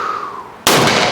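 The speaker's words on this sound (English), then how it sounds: "It's possibly the sharpest recoiling black powder revolver I think I've shot." A single sharp, loud black powder revolver shot cracks close by after a short, quiet lead-in, followed by a brief ringing decay.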